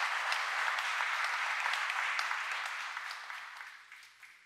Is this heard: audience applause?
yes